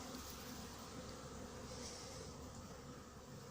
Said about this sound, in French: Je me retrouve avec un paquet d'abeilles dans la tente